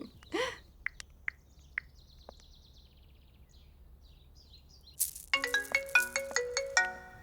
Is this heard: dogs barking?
no